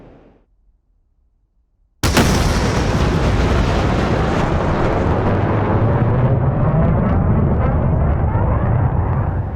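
Missile launch from a jet in DCS World: after a quiet lead-in, a sudden loud roaring blast erupts and holds as a sustained, slowly fading rocket roar.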